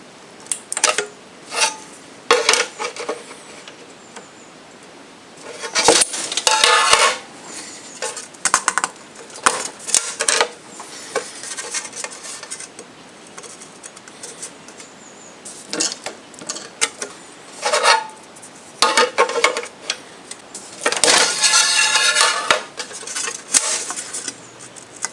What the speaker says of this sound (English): make our arbitrarily sized rectangular hole using 4 overlapping rectangle punch operations